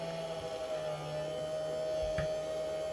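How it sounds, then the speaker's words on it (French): A gyroroue (electric unicycle) battery charger running while a battery charges gives off a steady, continuous hum with a faint buzzing tone, close and unchanging throughout, with no talk. "le chargeur fait un peu de bruit, il a toujours fait ce bruit là, c'est un bruit de roulement."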